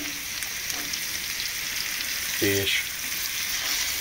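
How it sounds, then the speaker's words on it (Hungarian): Boiled potatoes sizzle in hot fat with paprika as they are stirred, a steady close crackling hiss, with a brief spoken word partway through. "kevergetve átpirítjuk"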